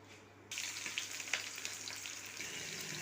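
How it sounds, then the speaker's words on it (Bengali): Onions sizzling in mustard oil in a pan after sugar has caramelized, a steady dense frying hiss that jumps up suddenly and holds, close and clear with no talking. "পেঁয়াজটা আমি লাল লাল করে ভেজে নিচ্ছি।"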